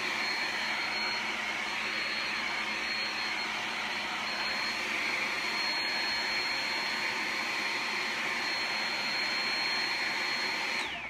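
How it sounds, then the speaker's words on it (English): Hair dryer blowing air onto a glittered cup coated in Mod Podge: a loud, steady, unbroken whooshing hum that runs the whole time with no talking. "It does matter how close you hold the dryer to it."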